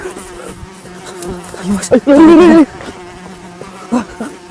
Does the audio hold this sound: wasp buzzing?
yes